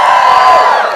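A crowd cheers and whoops at an evening event, a dense, steady roar of voices held close and loud for about a second.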